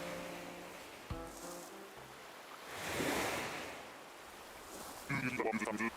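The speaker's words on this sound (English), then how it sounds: "Do you hear the world's sounds, the waves breaking, as the wind chases them ashore?" Ocean waves breaking ashore with wind in Link's Awakening, a soft surf swell rising and fading, mixed with short game chimes and musical blips at moderate to low volume.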